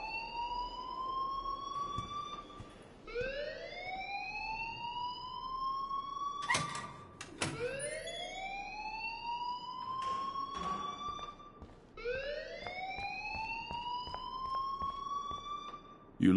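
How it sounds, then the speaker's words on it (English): A repeated rising siren-like alarm wails in the video game Life is Strange, with several loud upward sweeps every few seconds and sharp clanks in between, under a background murmur. "please turn off that alarm since that's your job"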